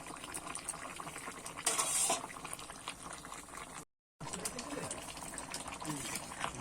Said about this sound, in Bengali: এবার মাছগুলো দিয়ে কিন্তু আমি ভালো করে ঝোলটা ফুটিয়ে নেবো আবারও